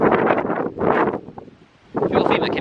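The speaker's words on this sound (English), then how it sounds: "this wind is so freaking annoying" Wind gusts outdoors at a church, loud rumbling bursts of microphone buffeting that come in waves with a brief lull in the middle, with a voice talking over it.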